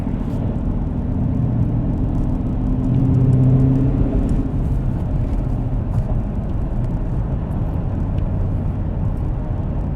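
A 2019 Dodge Challenger R/T Shaker with a 6-speed manual cruises along, a steady low engine and road rumble heard from the cabin that swells slightly midway, with no talking.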